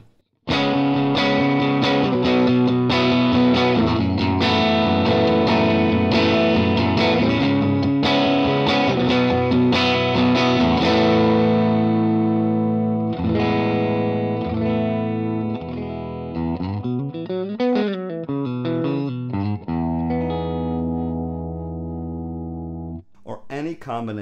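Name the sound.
Telecaster Thinline with Seymour Duncan P-Rails as two P90 pickups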